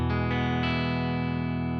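Sustained electric guitar chord through a UAD Dream '65 amp with a greenback speaker, ringing loud and steady with rich overtones and a slight distorted edge, one strum then a long decay.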